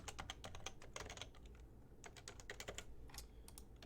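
Rapid typing on a computer keyboard, a quick, irregular patter of close key taps running throughout, quiet and alone without speech.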